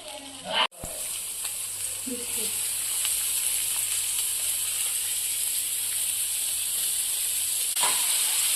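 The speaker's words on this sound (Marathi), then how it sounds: "पहिल्यांदा कांदा टाकून घेतलाय कांदा छान असा परतून घ्यायचा" Chopped onion sautés in hot oil in a pan, a steady bright sizzle and hiss that runs without a break after a brief clatter at the start.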